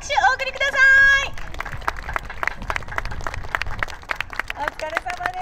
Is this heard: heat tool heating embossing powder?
no